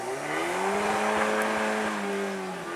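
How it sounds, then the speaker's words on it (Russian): A stuck car spinning its wheels at night by the Volga, a sustained engine whine rising and falling in pitch as the tyres churn, moderately distant and alone. "Я слышу, как там буксует машина."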